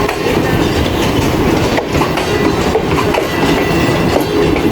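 A Pakistan Railways train rolls steadily past at Khanewal Junction, its new CNR-built AC dining car among the coaches, giving a loud, continuous rumble with rhythmic clickety-clack of wheels over rail joints throughout.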